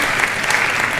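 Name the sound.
audience applause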